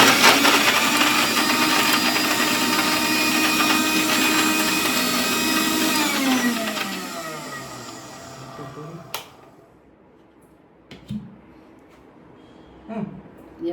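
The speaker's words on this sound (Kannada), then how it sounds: "ಉಂದೇನಿತ್ತೆ ಕಸಕಸ ಗ್ರೈಂಡ್ ಮನ್ಪು" A kitchen mixer grinder runs loud and steady for about six seconds while grinding poppy seeds, whirs down to a stop, and is followed by scattered faint knocks and handling sounds.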